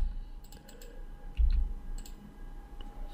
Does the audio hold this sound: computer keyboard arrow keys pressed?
yes